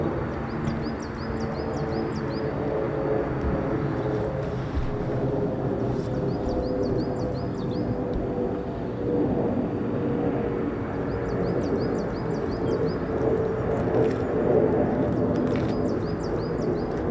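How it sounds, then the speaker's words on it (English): A tanker aircraft passes high overhead near an air force base in England, giving a steady, distant jet roar with repeated bird chirps layered over the top. "Tanker that we can hear just going up high and dry."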